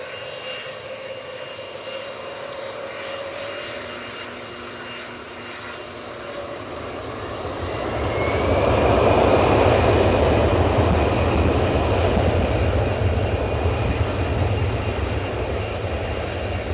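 A Bombardier Global business jet at Manchester Airport, its broad engine roar swelling louder around the midpoint and holding steady as it passes close by.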